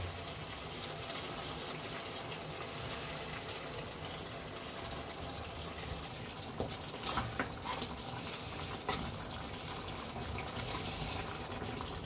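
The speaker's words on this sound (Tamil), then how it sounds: "இப்போ லைட்டாக சுற்றி கொஞ்சோண்டு தண்ணி ஊற்றிக்குவோம், கறி வேகிற அளவுக்கு." Water is poured into a pan of simmering chicken curry, making a steady, continuous rush and splash that holds at an even level for about twelve seconds with no talking.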